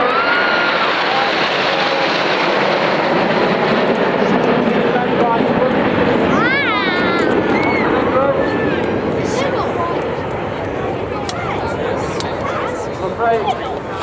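Loud aircraft engine roar during a fly-past at the Welshpool Air Show 2015, a steady sustained drone over outdoor crowd chatter and wind, with a brief rising whine in the middle.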